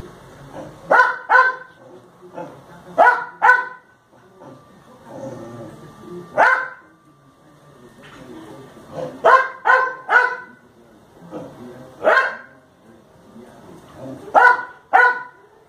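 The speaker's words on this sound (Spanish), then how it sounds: "el pobre animal estaba ladra y ladra y ladra todo el tiempo pidiendo que le hicieran caso" A dog barks repeatedly in short clustered bursts, loud and near, with pauses between volleys and occasional softer yips or whimpers in the gaps.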